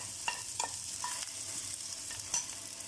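Mustard seeds, three dried red chillies and one large chopped onion fry in hot oil for a horse gram curry, giving a steady close sizzle with a few sharp stirring scrapes.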